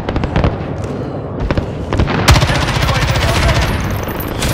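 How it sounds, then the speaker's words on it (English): A cluster strike in the Modern Warfare video game sets off a loud, near barrage of rapid overlapping explosions and booms, a dense crackling volley that keeps going. "fire cluster strike inbound"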